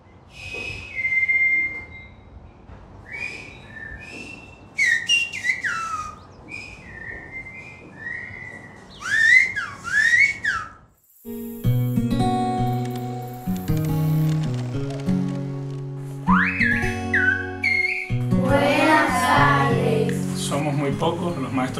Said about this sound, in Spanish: La metodología del silbo es una.